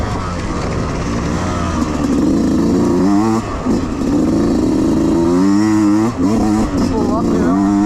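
A motorcycle on a motocross race track climbs uphill, its engine loud and close, revving continuously with repeated rising and falling pitch sweeps as the rider works through the throttle and gears.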